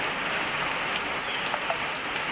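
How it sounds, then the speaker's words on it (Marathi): Heavy rain pours down in a dense, steady hiss, with occasional drops pattering on a surface close by. "इथं मरणाचा पाऊस झाला आहे"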